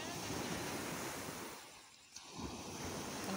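Ocean surf at Lubo Beach, Batangas, a steady rushing wash of waves that dips briefly and swells again, with wind noise buffeting the microphone.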